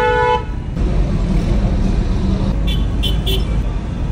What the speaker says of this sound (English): Everybody's honking, everybody's trying to sell something